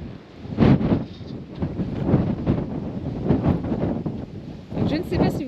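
Strong wind blowing sand near Antelope Canyon, a loud roaring gust buffeting the microphone in uneven surges, with a voice speaking beneath the rumble.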